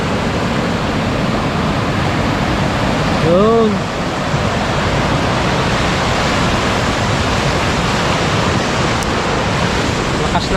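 A strong river current rushes during a typhoon, producing a loud, constant roar of turbulent water close by; a brief voice cuts in once near the middle.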